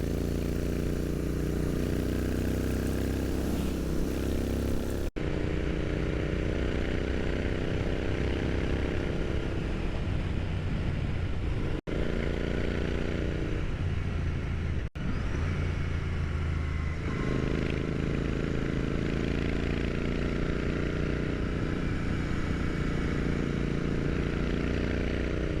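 Motorcycle engine running steadily while riding, a loud continuous drone with harmonic tones that shift in pitch as speed changes, heard alone without talk and with a few abrupt cuts.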